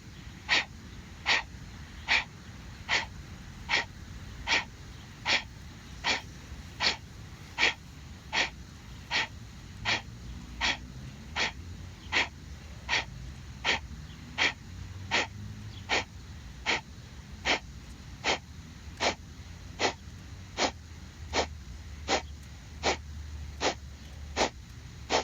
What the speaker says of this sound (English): Exhale, begin.